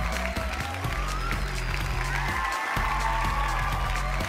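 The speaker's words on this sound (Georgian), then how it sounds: "გავაცილოთ სანდრო ფარცვანი აპლოდისმენტებით." A studio audience at an X Factor show claps steadily and continuously to see off a departing contestant, with music and scattered cheers mixed in.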